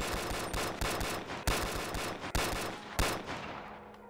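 Rapid bursts of gunfire in the VR game Bonelab, several loud shots cracking in quick succession over a dense, continuous din of combat noise, with no talking.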